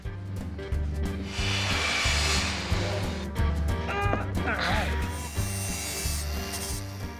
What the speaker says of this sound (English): John and I, hi John, are using perforated C-channel to build a scaffolding system to hold our middle nozzles in place